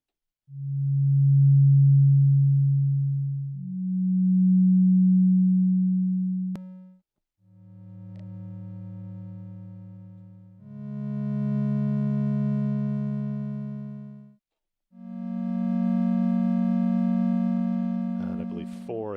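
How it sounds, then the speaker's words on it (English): A synthesizer plays a series of pure, smooth sine-wave notes, each held for a few seconds, stepping upward in pitch with later notes gaining richer overtones. "every note I play for every voice is a sine wave."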